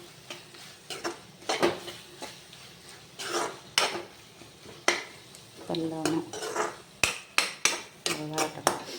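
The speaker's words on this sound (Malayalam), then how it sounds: "ഇളക്കി കൊടുക്കട്ടെ ഇനി ചെറുതായിട്ടൊന്ന് എല്ലാം കൂടെ ഒന്ന് യോജിച്ച്" A spoon scrapes and knocks in a pan of beef curry masala being stirred, a run of irregular clinks and scrapes with a faint background sizzle.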